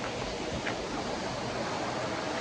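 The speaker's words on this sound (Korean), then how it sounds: "바로 옆이 이렇게 계곡물이 흐르는" A mountain valley stream flows through a remote, untouched valley in Gangwon-do, near a small waterfall, making a steady, soft rush of water that continues evenly throughout with no voices.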